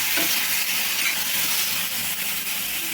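Green chili and tomato chutney, Andhra style, stirred in a hot pan, giving a steady, close, dense sizzling hiss throughout with no voices.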